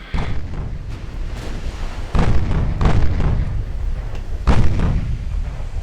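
Heavy naval guns pound enemy heavy cruisers in a warship battle game, a series of deep booming salvos with sharp onsets at irregular intervals, loud and rolling under a continuous low rumble.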